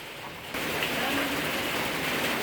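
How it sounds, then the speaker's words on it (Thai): Steady rain pours down outdoors, a dense, even hiss that swells in suddenly after a brief quieter start and holds constant, fairly close, with no talking. "ฝนตกแล้วพี่น้องข้างนอกฝนตกแล้ว"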